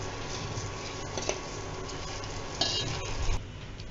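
Salt, hing and turmeric are stirred in a pot for Maharashtrian kadhi, giving a steady scraping, swishing sound over a low sizzle, with a few louder utensil scrapes and no talk.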